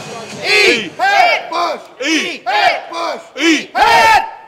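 A crowd of baseball fans cheers in rhythmic bursts, loud, close and continuous, with chant-like shouts rising and falling across the stands, including personal cheers for players.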